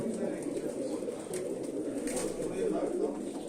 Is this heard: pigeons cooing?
yes